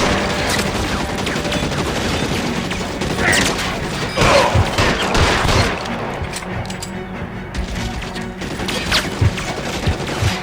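A dense, loud exchange of gunfire in an L.A. Noire shootout, with rapid overlapping shots and crashes that continue without a break for the whole stretch.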